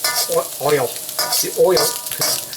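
Onions frying in oil in a pan, browning and turning translucent, with a steady close sizzle and stirring scrapes in bursts.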